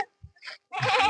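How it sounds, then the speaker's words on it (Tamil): A male goat at the foot of a hill near a waterfall in Thiruvannamalai gives one short, loud, nasal bleat close by, after a few faint scuffing sounds. "இந்த ஆம்பளை ஆடு குரல் விட்டா பொம்பளை ஆடு குறுது."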